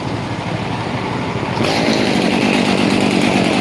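A chainsaw in winter in New Zealand runs loud and close, idling at a rough buzz before revving sharply to a higher, harsher whine that holds to the end.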